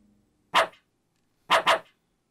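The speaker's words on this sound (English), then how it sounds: "It's a doggy!" A dog in the video game LISA barks three times, one single bark followed by a quick double bark, close and clear with no talking.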